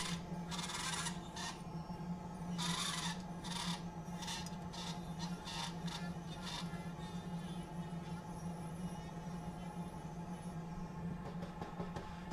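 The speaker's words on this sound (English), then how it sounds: "It's a tungsten burr. It's pretty coarse. It cuts pretty fast." A coarse tungsten burr trims a dental retainer in bursts of gritty, rasping cutting, several short passes followed by lighter intermittent grinding over a steady motor hum.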